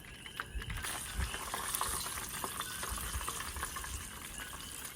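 Fish frying in hot oil while camping after kayak fishing in Hawaii gives a dense, steady sizzle with small crackles and pops, close and fairly loud with no talking.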